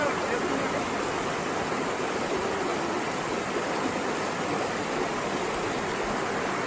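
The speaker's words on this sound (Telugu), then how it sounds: "ఆ పైన ఐస్ కరిగి వాటర్ వస్తుంది" Meltwater from melting ice runs in a shallow stream that is wide enough to wade into, giving a steady, unbroken rush of flowing water that stays close and even throughout.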